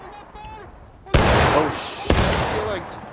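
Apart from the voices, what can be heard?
gunfire in a video game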